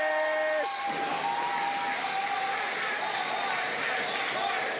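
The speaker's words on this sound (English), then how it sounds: "Wow, the audience is celebrating here." A crowd cheers, whoops and claps at a combat robotics competition final, a loud and sustained roar after a few brief electronic tones at the start.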